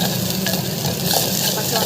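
Ingredients for Tamil puli kuzhambu sauté in a pan, giving a dense, close, continuous sizzle with faint stirring under it.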